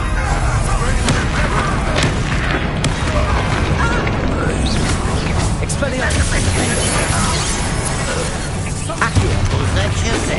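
Fiery Confringo spell blasts in a Hogwarts wizard video game, a dense, loud wash of booming explosions and crashing debris rolling on without pause, with a voice talking over the battle.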